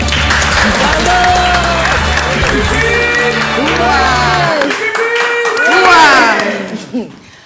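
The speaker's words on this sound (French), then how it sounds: "je crois que ça fait un très bon score qu'on peut brillamment applaudir" An audience at a live stage show applauds and cheers, broad clapping under overlapping talk and voices that swell toward the end before fading.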